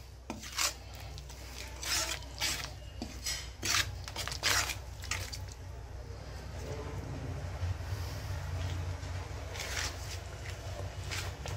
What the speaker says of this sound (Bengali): এবার আমি নাড়িয়ে দেব। ব্যাপারটা সম্পূর্ণ হাই ফ্লেমে হবে।